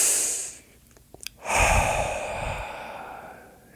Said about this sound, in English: I take some deep breaths